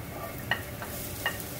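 Onions for Hong Kong style beef curry puff filling cooking in a pan, a soft low sizzle with two brief scraping stirs, quiet and without talk.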